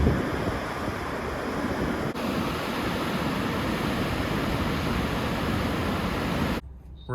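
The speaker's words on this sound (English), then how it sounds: "and the waterfall is right here." Roar of a waterfall in Iceland, a steady, dense broadband rush that stays constant and loud before cutting out abruptly near the end.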